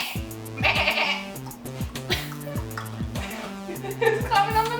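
A person imitates a mountain goat with a series of wavering, nasal bleats, repeated several times in quick succession, loud and close.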